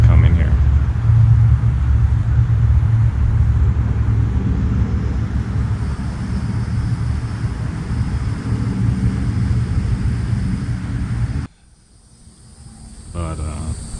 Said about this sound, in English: Got a truck coming here.